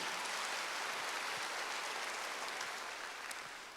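Church congregation applauding during a Wednesday worship service, a dense, steady clatter of many hands that tapers slightly at the end.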